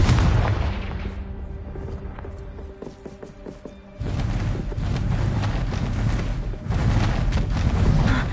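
In the Hogwarts Legacy video game, the Confringo explosive spell goes off with a sudden heavy blast, followed by a sustained rumbling roar of fire and debris after a stretch of quieter game sounds.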